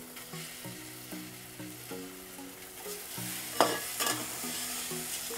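Eggs sauté in a pan of roasted masala for egg curry, giving a faint, steady sizzle with occasional stirring scrapes and a soft clink near the middle, all without talk.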